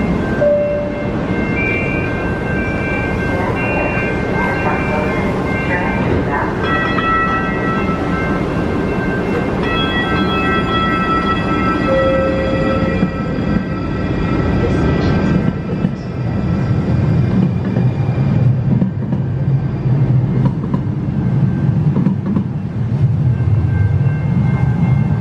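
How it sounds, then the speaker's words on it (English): A train passes close by on an early summer morning, a loud sustained rumble of rail cars with faint clatter and brief high squealing tones, the pitch and roar shifting as it goes by. "I'm walking to the train and I hear it coming right now."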